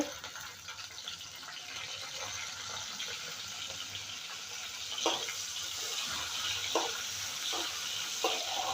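Leftover rice with tomato sizzles and fries in a pan, a soft steady crackle with occasional sharper pops and scraping stirs, quiet and close with no talk.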